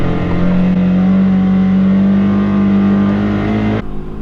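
A tuned Polaris Xpedition off-road vehicle accelerates on soft soil, its engine droning loud and steady close by for several seconds before abruptly cutting back near the end.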